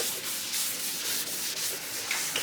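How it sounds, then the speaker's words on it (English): Abrasive sanding on body filler and epoxy over the bodywork of a 1970 Chevelle in a garage, a steady close rasping scrub with brief strokes, no voices. "So we're just sanding here still."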